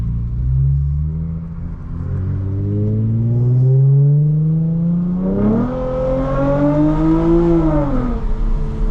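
A 2022 Lexus IS350 engine rumbles low and climbs steadily in pitch as it accelerates, shifts, then revs higher before easing off, loud and close.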